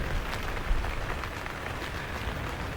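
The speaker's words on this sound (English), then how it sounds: "Starting to rain." Steady rain patters on a taut tent roof overhead during a night thunderstorm, a constant close hiss with occasional heavier drops and no voices.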